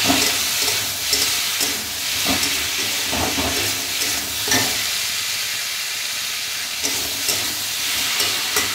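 Potatoes seasoned with salt and turmeric sizzle steadily in a pan while being stirred, with soft scraping strokes at irregular intervals over a continuous frying hiss; close and moderately loud, no talking.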